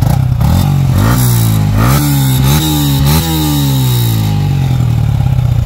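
A Sniper 155 motorcycle with a new exhaust pipe revs up in several short surges over a steady, loud, close idle. No voices are heard.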